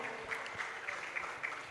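An audience at a women's leadership summit and gala in Kenya applauds for a water company, with faint, quick, even clapping heard from a distance.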